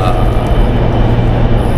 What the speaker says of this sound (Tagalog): Andito kami sa MRT Green Line and we're going to the gym.